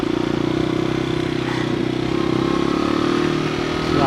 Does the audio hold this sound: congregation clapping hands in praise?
no